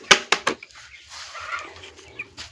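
Chickens clucking at midday while being given water mixed with acid and electrolytes, a few sharp close calls at the start followed by softer scattered clucks and low murmuring.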